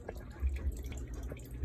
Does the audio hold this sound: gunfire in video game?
no